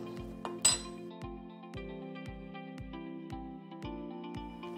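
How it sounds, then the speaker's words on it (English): A spoon clinks against the inside of a mug while stirring apple mug cake batter, a regular series of light metallic taps over a low steady hum. "Then you're going to take a spoon and stir that up."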